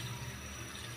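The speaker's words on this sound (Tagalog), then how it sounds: "lagyan na natin siya ng tubig" Water poured into a cooking pot for chicken tinola, a steady faint trickling and splashing over one second.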